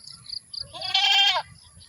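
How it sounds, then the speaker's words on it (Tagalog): A goat caught with its head through barbed wire gives one loud, strained bleat up close, surrounded by faint rustling and scraping. "Yung kambing nasabit niya sa barbed wire."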